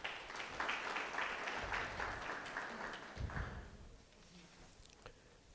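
Audience applause at a university campus student council inauguration ceremony, a burst of many hands clapping that swells briefly, then thins out and fades within a few seconds.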